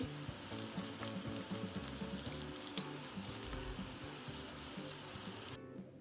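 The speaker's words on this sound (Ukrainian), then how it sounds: "Та кожен шматочок обсмажимо з обох боків" Chicken nugget pieces fry in oil in a pan, a steady close sizzle and crackle with small bubbling pops running throughout, no voices.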